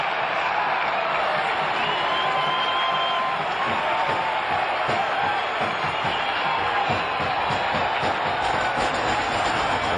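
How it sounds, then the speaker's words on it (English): A baseball stadium crowd roars and cheers continuously, a loud, steady wash of voices from a ballpark crowd on its feet during Len Barker's perfect game, Blue Jays at Indians. "Listen to this crowd. Everybody in the ballpark on their feet."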